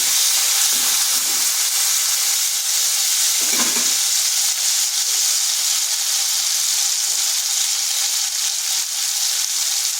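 Tomato with ginger and green chili paste sizzles steadily in a hot pan, a loud continuous hiss with brief stirring scrapes near the middle.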